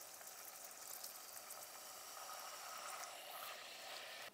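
Tap water splashes into a hot pan of sizzling glazed onions, giving a steady, broad hiss and crackle that stays loud and even throughout with no voices.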